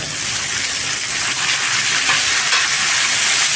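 Small onions and tomatoes sauté in a pan for a mutton curry masala, producing a loud, steady hissing sizzle with no pauses.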